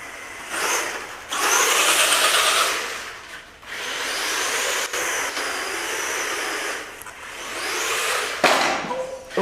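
A radio-controlled HPI Wheelie King truck runs on a replacement speed motor, producing repeated high electric whines that surge and drop as it accelerates and slows.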